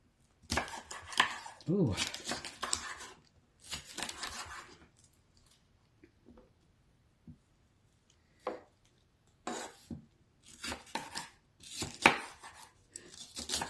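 A knife chops celery on a cutting board in irregular bursts of crisp cuts with short pauses, close up, and a voice lets out a brief exclamation.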